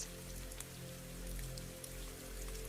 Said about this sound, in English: Beyond it, you can still hear the rain, steady against the greenhouse glass.